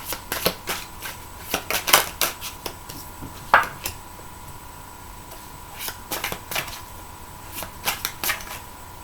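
Tarot cards being shuffled by hand in a quiet room: a run of crisp papery riffles and slaps in irregular bursts, close and fairly loud, with short pauses between.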